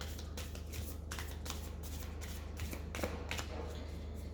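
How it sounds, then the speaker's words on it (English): Oracle cards shuffled by hand in a quiet room, a run of quick crisp riffling bursts repeating in an uneven rhythm, close and fairly soft, with no talking. "Once again, I'm clearing the cards."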